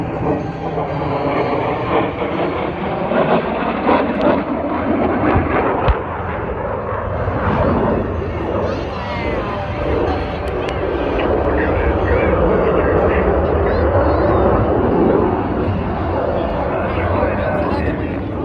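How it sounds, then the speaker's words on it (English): An F/A-18 fighter jet roars through an attack pass at the MCAS Beaufort 2023 airshow, a loud sustained engine rumble swelling and shifting as it passes, with an announcer talking over it. "From low and to the left, the second FA-18 is cleared in hot"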